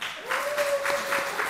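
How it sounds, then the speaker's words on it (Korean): Welcoming applause from a Korean church congregation for an arriving guest: brief, moderately loud clapping with a sustained tone running underneath. "환영의 박수 한번 쳐주시죠."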